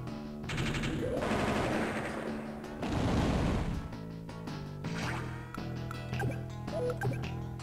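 Artillery attack in the Advance Wars DS video game: a loud rush of booming, rattling gunfire effects over game music, followed by quieter explosion and impact sounds.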